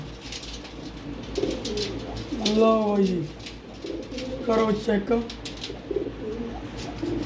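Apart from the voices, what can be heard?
pigeons cooing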